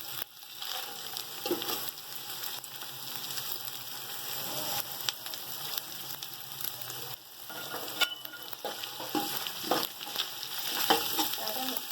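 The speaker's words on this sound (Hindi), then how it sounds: "मसाले पड़े हैं, ये हम इसके अंदर फ्राई कर देंगे।" Spices for chicken yakhni pulao fry in hot oil in a pot, giving a steady close sizzle with occasional crackles and faint stirring clinks throughout.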